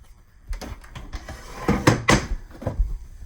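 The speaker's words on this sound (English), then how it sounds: "Just push this little button back here, and the hinge pops off." A cabinet door's hinge pops off as the door is taken off under a kitchen sink. It gives a series of close, loud plastic and metal clicks and knocks, with a sharper snap near the middle, and no talk.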